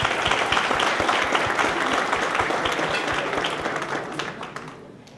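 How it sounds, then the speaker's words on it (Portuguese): Steady applause from an audience, many hands clapping at once, gradually fading toward the end. "Uma salva de palmas."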